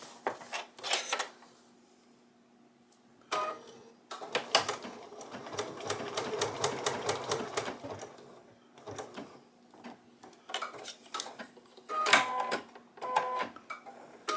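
A sewing machine stitches a chicken appliqué in bursts of rapid mechanical clatter, starting and stopping several times with quiet pauses between runs, close and moderately loud.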